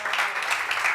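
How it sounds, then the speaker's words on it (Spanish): A church congregation applauds in worship, steady clapping spread evenly through one second with no break, close and moderately loud. "Dale un aplauso a nuestro Señor Jesucristo."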